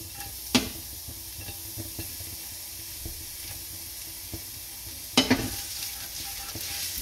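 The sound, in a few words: garlic frying and being stirred in a pan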